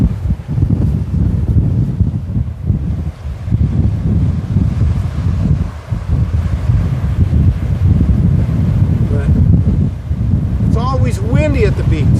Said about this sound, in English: Windy at the beach, almost always